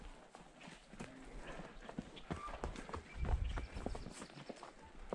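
Hooves clop on the ground in an uneven walking rhythm, soft and somewhat distant, amid faint outdoor background noise.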